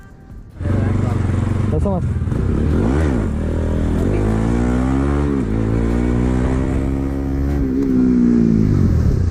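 A motorcycle engine revs loudly and continuously, its pitch climbing and falling as the bike rides along.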